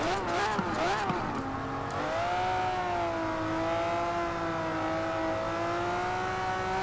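Lamborghini engine revving in the video game Forza Horizon 4 during a hillclimb race, a loud sustained engine whine rising and falling through quick revs, then settling into a steady high drone.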